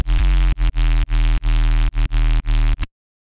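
A Serum synth bass layered with a high-passed distorted noise layer pumps in short sidechained bursts, about eight loud buzzy pulses in a tight rhythm before cutting to silence.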